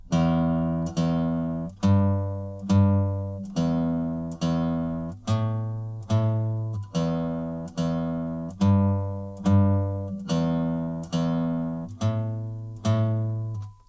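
A short plucked riff repeating in a steady rhythm, each note struck clearly and ringing out before the next, played alone with no voices.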